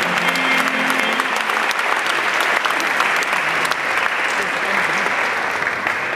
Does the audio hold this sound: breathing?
no